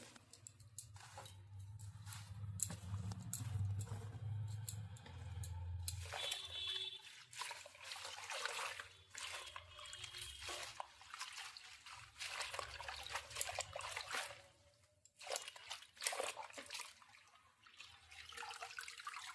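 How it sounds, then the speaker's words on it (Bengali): Whole spices for panch phoron are rinsed by hand in a bucket of water, with steady splashing, sloshing and trickling that swells and eases throughout, close and moderately loud. "এবার আমি বালতিতে জল নিয়েছি ধুয়ে নিচ্ছি একটু"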